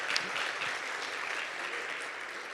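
An audience claps after a sponsor talk: dense, even applause holds steady for a couple of seconds at moderate distance, with no voices over it.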